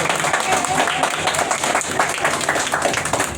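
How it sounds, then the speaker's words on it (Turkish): Children clapping together at a traffic week event in Afyonkarahisar, a dense steady burst of applause close by, with chatter and voices mixed through it. "Alkışlayın bakalım. kendinize."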